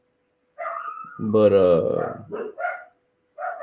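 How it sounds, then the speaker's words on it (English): Dogs bark a few times in the background, short sharp yips in a brief cluster, while someone talks over them; near the end a lone faint bark sounds again. "what are they barking this morning?"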